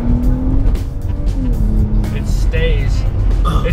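A BMW E90 engine revs hard and climbs through the gears close up inside the car, pitch rising and dropping at each shift, with someone talking over it.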